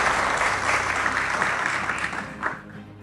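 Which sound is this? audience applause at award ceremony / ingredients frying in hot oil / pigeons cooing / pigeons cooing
audience applause at award ceremony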